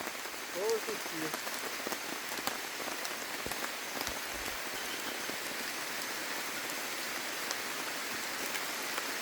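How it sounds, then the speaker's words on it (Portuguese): Steady rain drumming on a camp shelter roof in the Amazon, a dense continuous patter with scattered louder drips, fairly close and unbroken, with a brief faint sound early on. "Então tá aí, chovendo e o nosso telhado aqui abrigando uma chuva maravilhosa."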